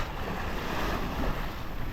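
A sailboat under way on an Atlantic crossing in about 12 knots of wind, doing 5.5 to 6 knots: a dense, steady rush of wind noise and breaking waves, loud and continuous, with no voices.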